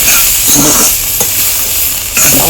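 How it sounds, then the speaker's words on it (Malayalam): Chopped large onions sautéing in a pan alongside tapioca preparation, a loud continuous sizzle with stirring scrapes that rise and fall, no talking. "ഇത് വലിയ ഉള്ളി ചെറുതാക്കി നുറുക്കി വഴട്ടുകയാണ്"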